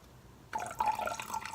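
Liquid poured out of a bowl of slime mixture, a sudden close trickle and dripping splash that starts after a quiet moment and keeps running.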